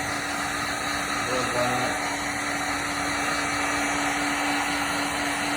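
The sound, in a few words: heat gun blowing hot air on thermofoil cabinet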